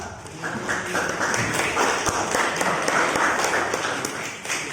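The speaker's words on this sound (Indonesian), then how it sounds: "Kita beri tepuk tangan untuk kita semua" Classroom applause at a vocational school motorcycle engine maintenance lesson after small groups finish presenting their discussion results, steady dense clapping from many students filling the room for several seconds.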